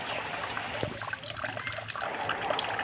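Red amaranth greens are washed in water, giving a soft trickle and sloshing of liquid close by with small splashes, fairly quiet and steady over a few seconds.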